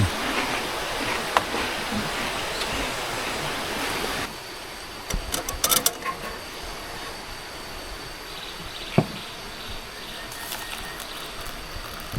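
A stream rushes steadily at first, then drops to a quieter flow broken by a few sharp clicks and knocks.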